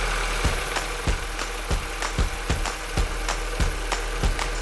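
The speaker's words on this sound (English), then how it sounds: "Now we just have to start the engine and check that everything is working as it should" A Mini One R56 petrol engine, just back together after a cylinder head cover gasket replacement, idles up close with a steady low rumble and a sharp, regular ticking knock about twice a second.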